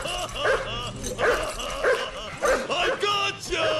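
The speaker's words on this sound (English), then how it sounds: "it's a dog." A dog in the game Still Life barks and yips repeatedly in short bursts at close range, some sounding whiny or whimpering, loud against a low background hum.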